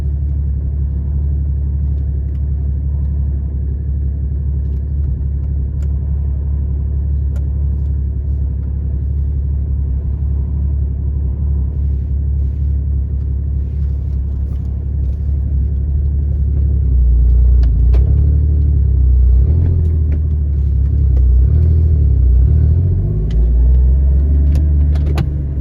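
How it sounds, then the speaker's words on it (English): A Porsche GT4 with an aftermarket tune rumbles along with its exhaust flaps open in sport mode, a steady deep engine drone from inside the car that swells louder and rougher toward the end, with no talking. "I got the exhaust flaps open and then in sport mode."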